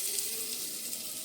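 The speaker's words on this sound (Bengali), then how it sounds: "এখন ডালিয়া বানাচ্ছি রাত্রিরে" Dalia frying in a pan, giving a soft, steady sizzle close to the microphone with no voices.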